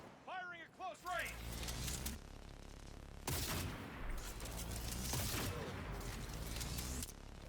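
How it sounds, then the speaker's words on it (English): Close-range gunfire in Cyberpunk 2077, heavy automatic volleys after a brief swooping electronic effect, dense and sustained, with a voice talking over parts of it. "Firing at close range."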